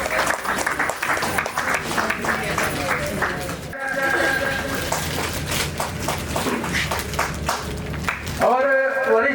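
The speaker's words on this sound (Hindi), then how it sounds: "तालियों से स्वागत करेंगे।" Applause welcoming an honoree at a workers' felicitation ceremony, a crowd clapping steadily and loudly through most of the stretch, mixed with amplified voices and hall noise.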